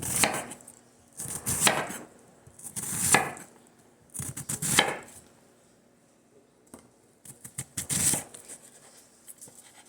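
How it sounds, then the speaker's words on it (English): A knife dicing a yellow onion on a cutting board, with bursts of quick crisp chops in short rapid runs separated by brief pauses, close and clear. "we're going to start by dicing one yellow onion"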